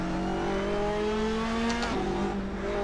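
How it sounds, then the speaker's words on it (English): A race car power slides through the corkscrew in Assetto Corsa, its engine droning steadily with a pitch dip and brief tire scrub midway, loud and continuous with no talk. "Power slides on the corkscrew."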